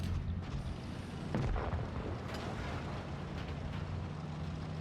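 Tank cannon fire in World of Tanks Blitz, a shot taken while moving, as a dull boom over a steady low engine rumble and battle noise, with no clear sharp transient standing out.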